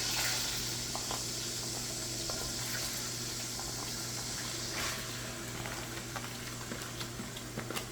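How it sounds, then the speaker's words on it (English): A medium onion goes into a hot pot for a Spanish seafood stew, giving a steady sizzle and hiss with scattered crackles and clicks, close and continuous over a low hum. "we're going to take our medium 1 onion and we're going to put it on the pot"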